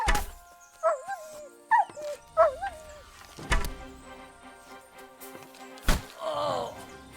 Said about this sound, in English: Someone call off that mutt!